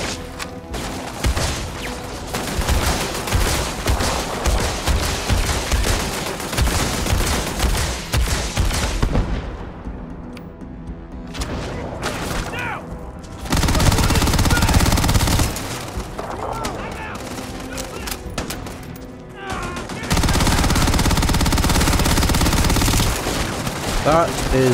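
Sustained automatic gunfire from defense turrets in the space game Starfield, loud rapid bursts that pause briefly and resume in heavy dense stretches, with faint talk now and then.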